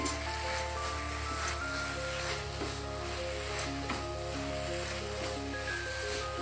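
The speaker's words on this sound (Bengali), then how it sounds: "কাজু আর কিশমিশটাকে ভালো করে গাজরের সঙ্গে মিশিয়ে দিচ্ছি।" Carrot halwa with cashews and raisins cooking in a pan, giving a continuous soft sizzle with light stirring underneath a steady background hum.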